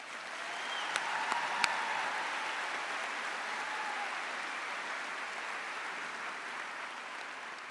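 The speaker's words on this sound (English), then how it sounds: "May we have a round of applause." Applause from a large audience at a high school commencement ceremony, a faint, distant, even wash of clapping that continues steadily throughout.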